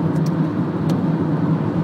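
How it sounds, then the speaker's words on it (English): Steady road traffic at rush hour on a Friday evening, cars passing in a continuous close rumble with no gaps and no talking. "everyone's going home now, and it's just traffic"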